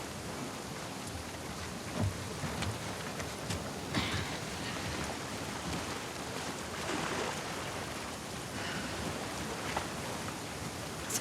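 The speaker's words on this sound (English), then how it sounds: "Let's get out of the rain." Rain falls steadily in The Last of Us Part 2, a continuous soft hiss of drops on surfaces with a few slightly louder patters, heard alone without talk.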